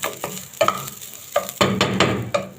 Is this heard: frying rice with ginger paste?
yes